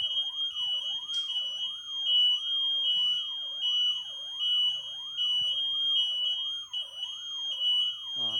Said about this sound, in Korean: 화재 경보였던 것 같아요